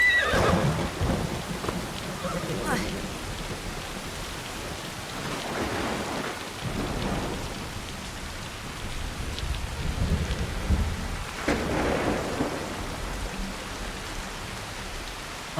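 Steady rain and rolling thunder from a video game fill the whole stretch at a constant level, with brief horse whinnies cutting through.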